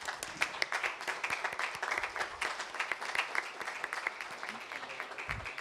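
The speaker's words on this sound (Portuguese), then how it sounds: "E eu queria que todo mundo pudesse dar uma salva de palmas para essas mulheres," Sustained clapping from an audience honoring a group of women at a formal council session hosting a visit from a Spiritist charity society, dense and steady for several seconds.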